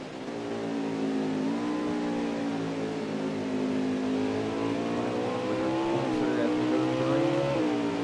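Xfinity race cars in a racing video game at Mid-Ohio roar in a steady, loud engine drone, pitch rising and shifting as they accelerate out of a turn and down the straightaway, with the sound continuing throughout.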